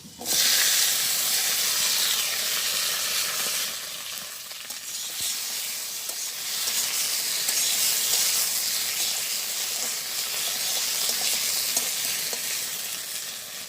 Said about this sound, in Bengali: তো তেল গরম হয়ে গেছে, আমি এখন ঢেঁড়সটা ছেড়ে দেই।